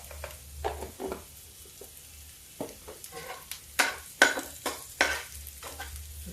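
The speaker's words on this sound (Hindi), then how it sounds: "जीरा डाल देते हैं" Cumin seeds sizzling in hot oil in a pan, a soft continuous crackle with sharper pops and spatters scattered irregularly, fairly quiet and close, with faint stirring noises.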